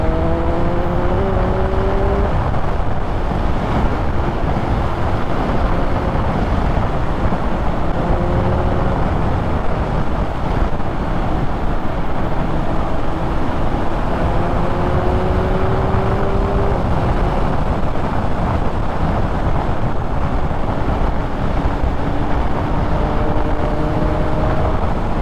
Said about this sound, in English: there's a lot of wind blast, no doubt about that